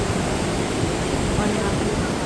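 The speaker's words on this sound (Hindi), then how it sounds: "ये सुंदर सी नदी" A broad, steady rush of flowing river water fills the air along the Kedarnath trek path, loud and continuous with no breaks.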